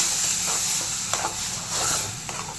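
A spoon works fresh tomato paste, made from six large tomatoes, into sautéed onions in a pan, giving a wet sizzling hiss with soft scraping strokes every half second or so.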